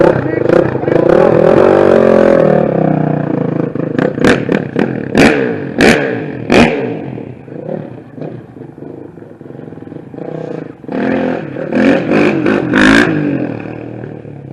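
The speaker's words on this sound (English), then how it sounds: "you need to give it a quick crack on the throttle" A dirt bike engine revs in short, sharp bursts as the throttle is cracked, loud and close, with clattering in between and a person talking over it.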